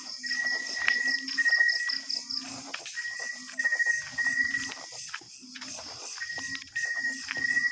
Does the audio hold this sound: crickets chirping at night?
yes